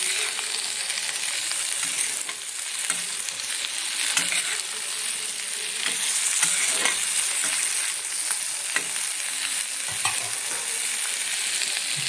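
Food crackles and sizzles as it fries in a pan, a steady close hiss broken by scraping stirs and small pops throughout.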